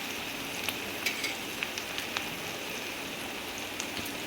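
Chopped onions fry in oil for bitter gourd sabzi, giving a steady close sizzle with scattered small pops and crackles throughout, no voices.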